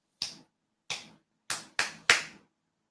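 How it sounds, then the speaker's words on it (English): Hands clapping five times indoors, sharp separate claps with a pause before the last three come quicker, close and clear with nothing else behind them. "And I'm clapping to fill the sound"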